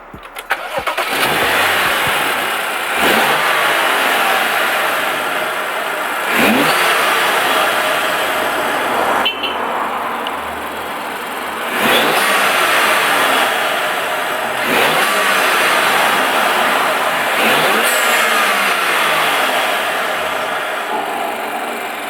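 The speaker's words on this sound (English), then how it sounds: "you can hear the turbo noise way more" BMW M235i with a performance intake revving repeatedly, each loud rev climbing and then falling back, with a prominent turbo whoosh and whistle on every release, recorded up close with no talking.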